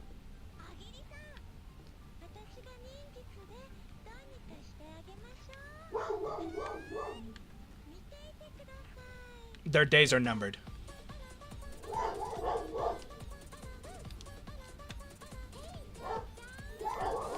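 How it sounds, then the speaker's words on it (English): Dogs barking in bursts from another room of a house, under a livestream with game music playing and a voice talking over them; one bark cluster is louder and closer than the rest. "if these dogs bark one more time"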